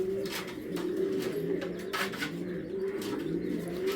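Pigeons coo in low, rolling, repeated calls close by, several birds overlapping against a busy background with faint chirps. No speech.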